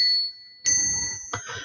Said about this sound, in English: And I brought my bell from home.